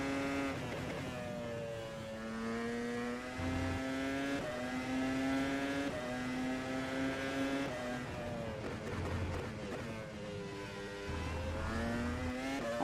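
A Formula Pro race car lapping Imola in the rFactor 2 racing simulator, a high engine whine climbing through gears with brief drops at each shift and downshifts into corners, steady and alone.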